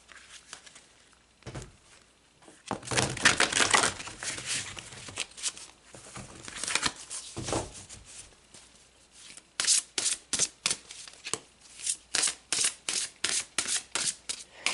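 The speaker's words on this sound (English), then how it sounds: "So let's pull some more cards." Oracle cards are shuffled and pulled in bursts of papery riffling and rubbing, with a long rustle early on and a quick run of rhythmic card snaps near the end, close and fairly soft.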